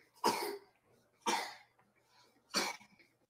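Three sharp coughs ring out a second apart, close and loud, with a faint throat sound between the second and third.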